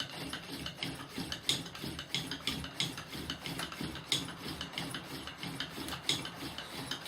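A hand-powered pump drill grinds into a smoking notch in wood, giving a steady rasping, rubbing friction sound in quick repeated strokes, close and continuous with no talk.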